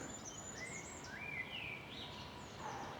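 Faint birdsong, several high chirping and trilling calls including goldcrests overlapping at a distance over a soft outdoor hiss, on a countryside walk near Moreton-in-Marsh.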